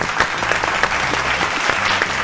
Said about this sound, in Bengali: জোরে হাততালি একটা।